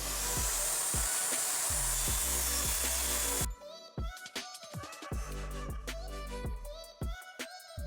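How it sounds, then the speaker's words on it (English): A circular saw cross cuts a sheet of plywood: a loud, close, sustained whining cut for a few seconds, then stops abruptly into a series of knocks and handling clatter. "when you cross cut a piece of plywood with a circular saw"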